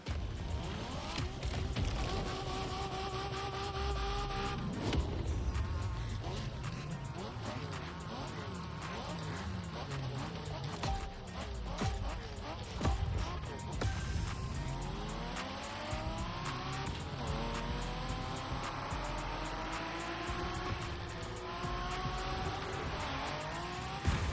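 Cars racing in The Crew Motorfest on a Japanese street-racing event, with engines revving up and down, tires squealing and steady game engine roar throughout, a constant loud mix with rising and falling pitch sweeps.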